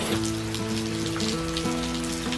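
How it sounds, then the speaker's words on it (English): Heavy rain drums on a surface in a steady, loud patter, with a low tonal hum running underneath and no talking. "Man, it's really dumping the rain."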